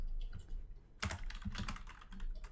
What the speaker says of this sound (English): You can hear my big clacky keyboard.